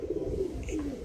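A tumbler pigeon coos twice in soft, low, close calls.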